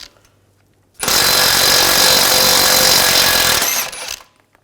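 A loud impact wrench with an 18mm socket rattles continuously for about three seconds, close up, removing a tie rod end bolt on a 2011-2018 Volkswagen Jetta, starting and stopping abruptly in otherwise quiet surroundings.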